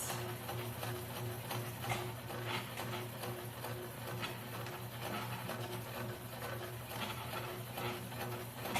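A sewing machine stitches across the pleats of a cloth face mask, a quiet, steady mechanical whir with a low hum and rapid needle ticking running continuously.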